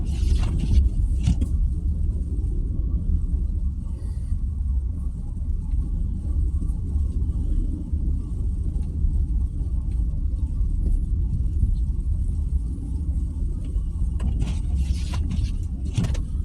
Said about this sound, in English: That quiet snow drive.